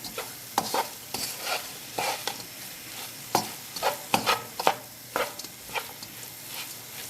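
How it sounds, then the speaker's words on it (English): Paneer cheese curry is stirred in a pan on the heat, with repeated scraping strokes of a spoon and soft sizzling, close and fairly quiet, with no talking. "now I'm going to bring that back onto the heat over here. Just give that a stir."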